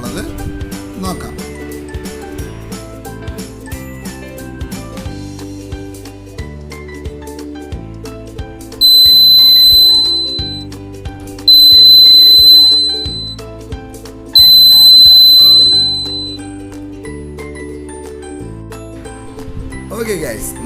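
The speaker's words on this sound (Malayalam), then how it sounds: "ഓക്കെ ഗൈസ്, നമ്മളെ ഡോർ അലാറം വന്നിട്ട് നല്ലതായിട്ടൊന്ന് വർക്കാവുന്നുണ്ട്." A homemade battery-powered door alarm lets out three loud, shrill electronic tones, each lasting about two seconds with short gaps between, over steady background music.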